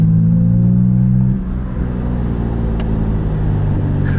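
BMW M3/M4 with catless downpipes and a single mid pipe at low RPM: a loud, close engine drone whose steady tones ease off after about a second, leaving a rumbling hum with a faint turbo whir.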